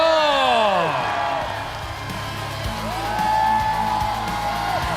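A studio audience at a Chinese televised singing competition, The Treasured Voice, cheers, whoops and applauds to welcome performers. Loud, rising whoops ring over crowd noise and clapping that swells again toward the end.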